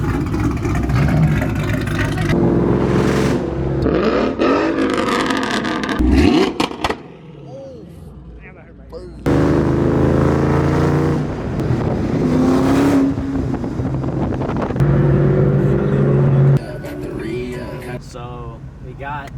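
Ford Shelby Mustang engines, 2001 and 2003 Cobra and Terminator V8s, rev loudly in bursts close by, cutting out briefly midway before roaring again, with voices talking over parts of it.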